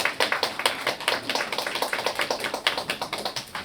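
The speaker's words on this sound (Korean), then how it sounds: "큰 박수 한번 부탁드리겠습니다." Applause from the audience at a local-culture symposium in Gunsan: brisk, evenly spaced claps from a modest crowd, close and fairly loud, with a rapid pattering rhythm throughout.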